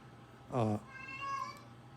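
A brain-damaged house cat lets out a plaintive meow, then a second, thinner drawn-out cry, both faint and mid-distance over a steady background hum.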